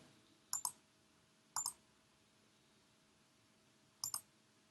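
A computer mouse clicks a Submit button on a library database login page, three soft isolated clicks spaced apart, each a quick double tick, close and clear over a faint steady hum.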